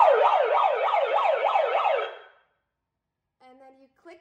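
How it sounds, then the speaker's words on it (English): An UZI handheld megaphone plays its built-in siren, a loud rapid wailing whoop that rises and falls repeatedly for about two seconds, then cuts off, followed by silence and a few brief electronic beeps. "You click the siren button right here."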